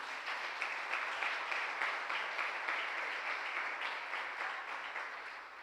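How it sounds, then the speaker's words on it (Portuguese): A church congregation applauds, a steady wash of many hands clapping at moderate distance, holding evenly before gradually thinning toward the end. "Aplauda Jesus por isso."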